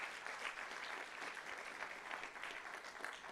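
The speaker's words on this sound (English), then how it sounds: "Please give them a round of applause." Audience applause at a university livestream event, an even stretch of many hands clapping that holds steady for the whole moment, fairly quiet and distant.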